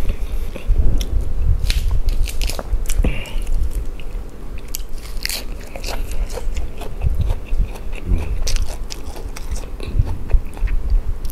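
Raw salmon dipped in seafood sauce being chewed up close, with wet, squishy bites and crunchy mastication repeating steadily and loudly throughout, no talking over it.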